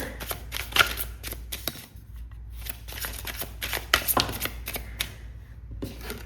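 Tarot cards being shuffled by hand, a run of close, crisp riffling and flicking bursts with brief pauses between, loud and near.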